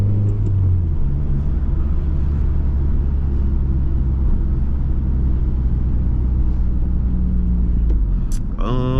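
A 2018 Subaru WRX heard from inside the cabin while driving, its engine a loud, steady low rumble and drone that holds evenly throughout, with a brief rattle near the end.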